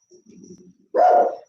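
A dog gives a low, soft grumble followed by one sharp, loud bark close by, in an otherwise quiet room.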